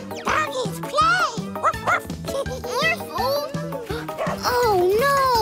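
A cartoon dog barks and yips in rapid, bouncy bursts over a lively musical score, with cartoon voices talking and exclaiming throughout.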